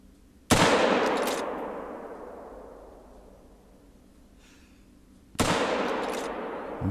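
Two loud, close .223 rifle shots in the hunting game theHunter: Call of the Wild, each a sharp crack followed by a long fading echo, about five seconds apart.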